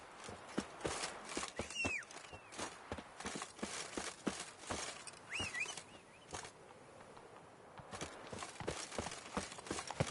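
The horse Roach galloping in The Witcher 3, with rapid, irregular hoofbeats clopping continuously and fairly close, plus occasional brief high calls in the background.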